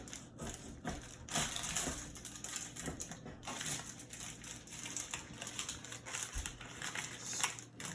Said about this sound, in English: we are gonna cut ourselves a piece.